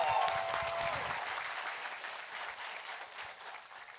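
Applause from an audience for a guest at a Women's History Month event, a steady wash of clapping that starts full and gradually thins and fades, with a brief voice at the start.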